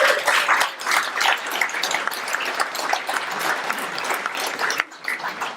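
Dense, steady applause from an audience for a musician who plays with the house band at a ceili music show, filling the whole stretch with a brief dip near the end.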